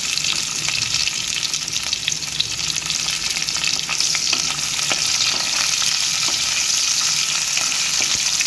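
Onions fry in a pan for a Goan karela fry, giving a loud, continuous sizzle and crackle that stays steady with faint stirring clicks underneath.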